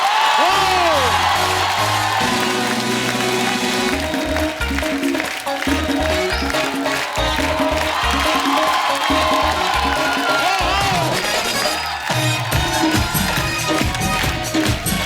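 A large studio audience at a TV comedy show applauds and cheers loudly and continuously, with whoops and shouts rising over music.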